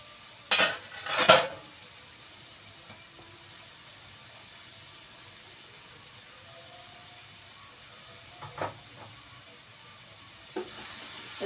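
Turmeric, coriander and chilli powders fry quietly in a pan with a soft continuous sizzle, broken by a few sharp scraping stirs early on and again toward the end.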